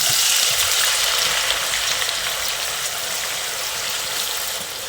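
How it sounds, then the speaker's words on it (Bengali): Shredded potatoes frying in hot oil over a medium-to-high gas flame, a loud, dense, steady sizzle that fades slightly toward the end, with no voices. "তারপর মিডিয়াম টু হাই ফ্লেমে ভেজে নিতে হবে"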